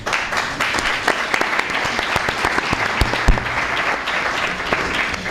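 An audience at a 50th anniversary ceremony for a telecommunications engineering school in Moncloa claps steadily, dense sustained applause from a large crowd with no speech over it.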